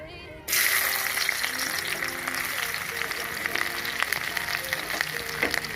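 Onions hit hot oil in a pan for a mushroom curry, bursting into a loud, continuous sizzle right after a brief quiet start, crackling steadily up close.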